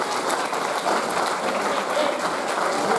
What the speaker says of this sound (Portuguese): dar um abraço e sentir o calor das vossas palmas ao João do Ramos